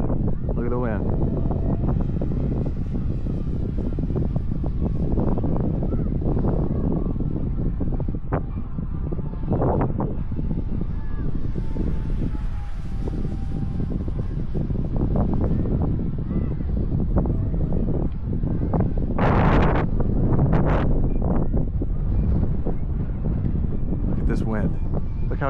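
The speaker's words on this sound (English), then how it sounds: "Look how crazy this wind is." Strong wind of about 20 mph sustained blows across an outdoor field where a model jet is flown, a constant loud roaring buffet against the microphone with gusting surges, while a person speaks over it.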